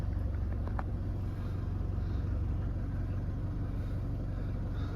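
A Jaguar XF 2.0 diesel with manual gearbox idles just after start-up, a steady low rumble holding evenly throughout with no talk over it.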